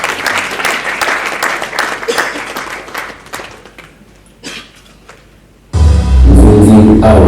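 Audience applause breaks out at an award ceremony, loud and dense at first, thinning to scattered claps, then a sudden burst of loud music or amplified sound takes over for the last seconds.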